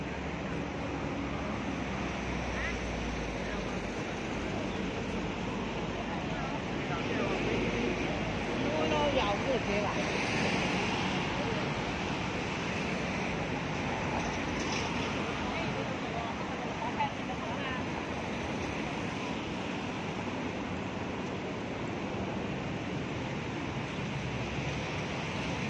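Breezy wind buffeting outdoors near a market, a continuous rushing roar with microphone wind noise throughout, mixed with faint crowd murmur in the background.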